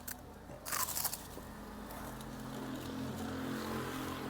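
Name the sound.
biting and crunching a crispy snack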